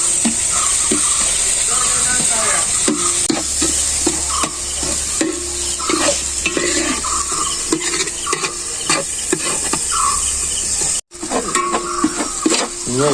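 Masala being stirred and fried in a pan for chicken parts and tapioca, cooked until the raw smell is gone: a steady close sizzle and hiss throughout, with repeated scraping strokes of the spoon and a brief break near the end.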